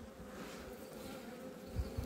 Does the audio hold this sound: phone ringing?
no